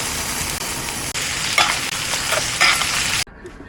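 A steak fries in a pan while cooking inside a camper van, giving a loud, steady, close sizzle with a few stirring or scraping bumps before it cuts off abruptly near the end.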